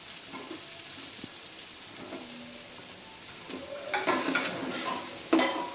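Finely chopped onions frying and sizzling in hot oil in a pan for a beef dish, a steady close hiss with stirring scrapes and louder crackling bursts near the end.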